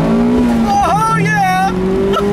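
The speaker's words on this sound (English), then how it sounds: "let's turn down onto this back road here, see how it does with this new red line" A 2019 Mazda MX-5 Miata with a 2-litre engine pulls hard on a back road, its engine note climbing and shifting loudly through the revs with rising and falling tones.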